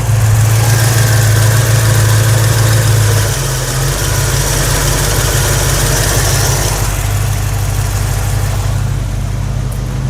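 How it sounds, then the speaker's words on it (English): 1989 Chevrolet S10 pickup with a V-8 engine idling at about 850 RPM, a loud steady close-up rumble that shifts slightly in tone partway through and holds even. "it picked it up to about 850 RPM, which that's not bad right there"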